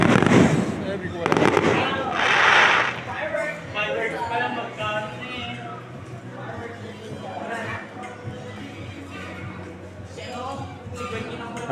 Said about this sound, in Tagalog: Fireworks commemorating the birthday of Dr. Roxita here in Calamba City.